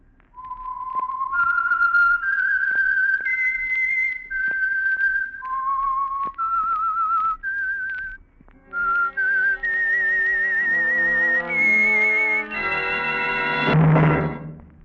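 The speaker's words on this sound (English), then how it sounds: "the signal to listen for is this whistle that identifies the Signal Oil program" A lone whistler carries the slow, wavering signature tune of the radio program The Whistler, pausing midway and then rising into a sustained melody that ends with a brief low thump.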